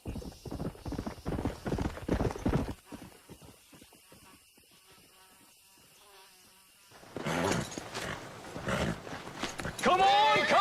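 Horse hooves clip-clopping in the Red Dead Redemption video game, steady rhythmic hoofbeats near at first, fading out, then returning with voices talking over them and a horse whinnying at the end.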